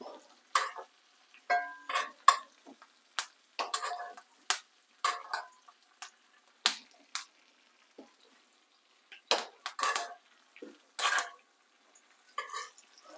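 Steak searing in butter in a pan on a low stove, heard as a series of short scratchy stirring and sizzling bursts separated by quiet gaps, close and fairly soft, with no talking.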